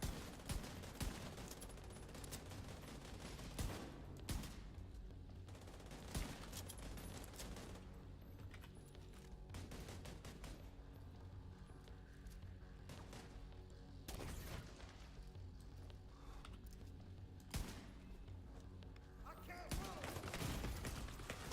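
Video game gunfire crackles throughout in repeated rapid bursts and single sharp shots, some loud and close, with a player's voice talking over the action.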